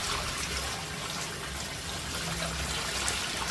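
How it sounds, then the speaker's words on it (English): Water runs steadily down a freshly unblocked sink drain after a Harpic Drain Xpert powder treatment, a continuous close rushing trickle with no pauses and no voices. "Now you see the water flow."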